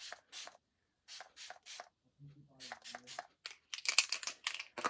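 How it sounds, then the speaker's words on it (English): Several short, hissing bursts of makeup setting spray puff out in quick succession, misted close onto a face, with a brief low hum partway through. "We're going to use the iconic London Prep Set Glow Spray."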